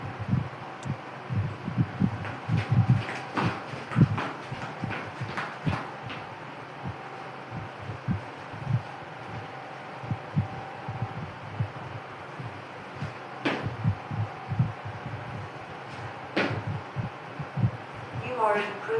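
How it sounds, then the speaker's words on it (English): Rhythmic foot strikes of a runner landing on the ground, a steady series of soft thuds close by, with a constant fan hiss running underneath throughout. "you'll be able to hear the ground contacts. The hissing underneath is actually my fan."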